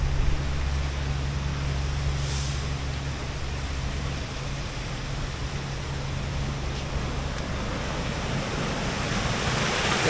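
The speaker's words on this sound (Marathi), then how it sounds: "पाहत आहे पाण्याचा प्रवाह किती आहे ते" A Rajapur waterfall gives a steady, loud, broadband rush of flowing water that holds unbroken for the whole stretch, with no voices.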